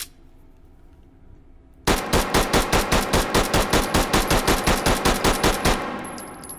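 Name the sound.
P226 pistol gunshots at paper target, video game H3VR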